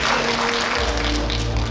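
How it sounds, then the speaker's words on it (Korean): Brief applause from an audience at a book launch event in Suncheon, a steady wash of clapping with a low rumble underneath. "네, 박수 보내주십시오."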